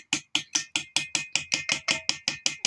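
A chisel chips plaster off a T-Rex skeleton replica in a rapid, even series of about fourteen sharp taps, close and clear with nothing else heard.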